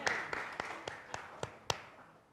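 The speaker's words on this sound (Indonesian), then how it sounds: "Ada tepuk tangan buat Tuhan." Applause from a church congregation, seven or so sharp claps spaced evenly like a slow round of hand-clapping, fairly faint against a hushed room with no talk over it.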